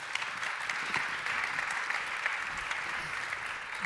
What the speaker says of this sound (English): They deserve some applause.